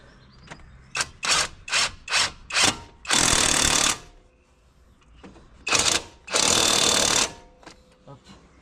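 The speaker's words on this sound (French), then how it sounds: "Je vais mettre un coup de clé choc" A pneumatic impact wrench works on a Nissan Navara D40 front wheel hub, firing a rapid series of short rattling bursts followed by two longer hammering runs, loud and close, with pauses between.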